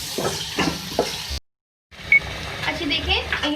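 Beef karahi masala with coriander and cumin fries in a pan while being stirred, a close sizzle with scraping stirs, briefly cut to silence midway, with a voice talking over it.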